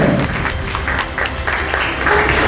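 An audience at a diploma ceremony claps for the ceremony's patron, a movement president, producing a continuous crowded patter with a faint voice underneath.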